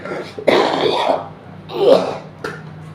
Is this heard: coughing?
yes